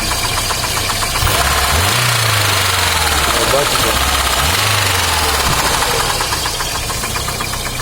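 Daewoo Sens (Lanos base model) engine idling and being revved, with a rough knocking running under the engine drone; two rising rev swells stand out, and people talk over it nearby.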